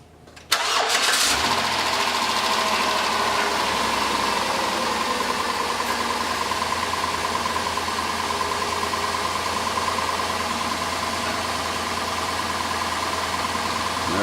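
A 2007 Dodge Grand Caravan engine cranks and catches after sitting unused for a couple of days, then settles into a steady, loud, close idle that runs on without a break.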